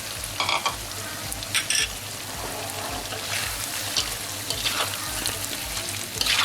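Beef and potatoes dropped into a hot frying pan for Padang-style dendeng batokok balado, crackling and hissing steadily with bursts of sharper spatter, close by and fairly loud throughout.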